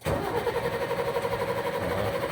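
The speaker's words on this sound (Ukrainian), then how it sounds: "Запускається він з ключа, стандартно, ось так." ZIL-130 truck fitted with a Mercedes turbo diesel engine is started with the key and catches immediately, settling into a steady, loud, close idle rumble with no speech.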